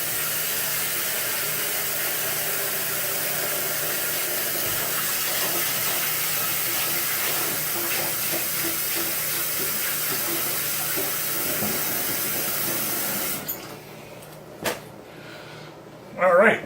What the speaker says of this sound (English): Let me run some water in this